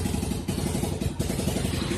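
A Royal Enfield motorcycle with a bent handlebar and damaged mudguard returns from a test ride, its engine thumping close by in a fast, steady beat that dips briefly and picks up again.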